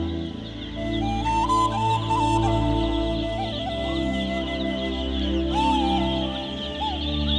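Flock of ducks on a Kuttanad duck farm calling in a continuous dense chorus of overlapping quacks and honks, close and steady throughout, with no talking.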